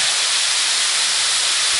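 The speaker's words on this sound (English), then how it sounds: "As you can see, that's pretty hot. So it's sizzling." Steady, intense sizzling hiss from a very hot rock used for cooking, loud and continuous like something searing, with no voices over it.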